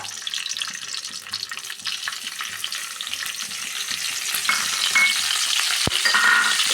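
Mustard seeds and curry leaves fry in a tablespoon of coconut oil in a wok-style pan for a brinjal curry. A continuous crackling sizzle runs under occasional stirring scrapes, with a sharp metallic clink near the end.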